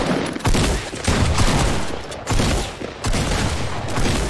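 Fortnite gunfire crackles in dense, rapid bursts of shots, loud and nearly continuous across the whole stretch with only brief gaps between volleys.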